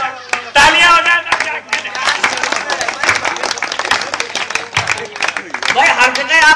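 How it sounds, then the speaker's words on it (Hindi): Audience applause at a Hindi comedy poetry show, a dense burst of clapping with crowd noise that continues throughout, mixed with voices and loud in the foreground. "तालियां हो जाए"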